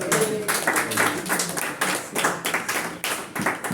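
Church congregation at a prophetic mission service in South Africa clapping together to acclaim the Lord; loud, rhythmic, fairly even hand claps filling the whole stretch, with no voices on top.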